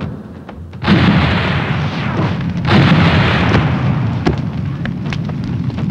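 Bomb blasts in a Telugu action movie scene: two heavy booming explosions, one about a second in and another near the three-second mark, each followed by a loud rumbling roar that lingers with scattered crackles.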